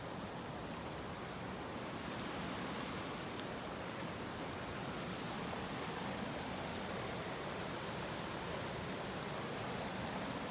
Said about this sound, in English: Really is quite a nice little stretch of this river.